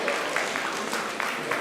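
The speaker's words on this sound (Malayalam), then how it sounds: "Please clap your hands." Audience at a Newport Kerala community Onam celebration claps together in a steady, moderately loud wash of applause that fills the whole moment, with a faint hint of voices underneath.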